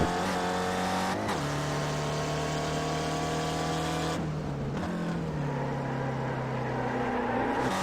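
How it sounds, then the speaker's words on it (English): A race car engine in a sim racing video game at Sonoma roars at high revs, shifting gears with pitch drops, over a steady mechanical drone with no talking. "You can hear the tires squealing and the engine."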